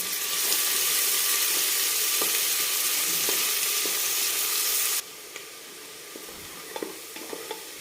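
Finely chopped large onion hits hot oil with a loud, hissing sizzle that stops abruptly partway, leaving quieter frying crackles and a few scraping stirs in the pan.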